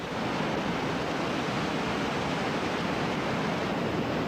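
Water roars out of dam release tubes on the Gauley River at about 2,500 cubic feet per second, a steady, loud, broadband rush that holds constant throughout with no voices.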